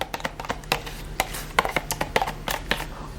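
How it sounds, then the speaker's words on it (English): Hair colour mixture stirred in a bowl with a brush, giving a run of irregular scraping and tapping strokes, close and fairly clear, with no talking. "So I'm going to stir that mixture very well."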